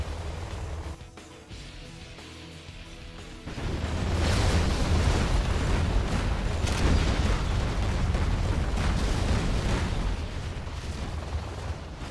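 Heavy artillery and explosions pound continuously in a chaotic free-for-all strategy game match, a loud dense rumble swelling after a quieter opening few seconds and holding steady to the end.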